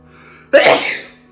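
A single loud, close sneeze bursts out abruptly after a quiet moment and trails off over about half a second.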